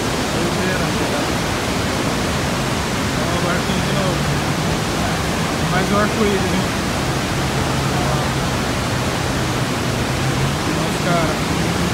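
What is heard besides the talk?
Iguazu Falls waterfall roaring, Argentine side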